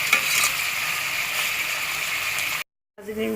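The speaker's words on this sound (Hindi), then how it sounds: "अब इसको प्याज को तब तक पकाएंगे जब तक ये गोल्डन सुनहरा ना हो जाए।" Onions fry in a pan for an aloo-matar vegetable biryani, a steady bright sizzle holding constant for over two seconds before a brief silence, then resuming quieter.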